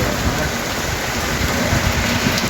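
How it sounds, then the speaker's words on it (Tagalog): Heavy rain pours down in a dense, steady roar, loud and unbroken throughout, with no voices. "malakas ang ulan"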